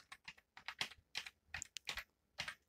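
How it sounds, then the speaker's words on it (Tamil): Someone types a full name on a computer keyboard in a quiet room: a string of close, crisp key taps in short irregular bursts, with brief pauses between them. "உங்களுடைய பெயர் ஃபுல்லாக இதில் டைப் பண்ணிக்கணும்."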